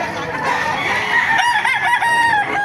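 Roosters crow loudly and nearby at a poultry market in Baliuag, Bulacan, with a drawn-out crow over the clucking and chatter of other fowl.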